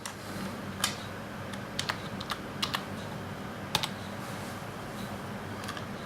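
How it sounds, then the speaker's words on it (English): Typing a password on a computer keyboard during document encryption setup, with light, close key clicks in short irregular bursts and pauses over a quiet room hum, no talking. "Then all we have to do is type in a password"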